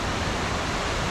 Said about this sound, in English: Whoa! Waterfall is mad!